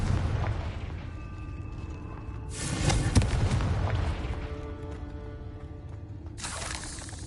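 A blasting-spell explosion in the Hogwarts Legacy video game lands as a sharp burst with a rumbling tail, and a second burst hits several seconds later over a low, continuous game ambience.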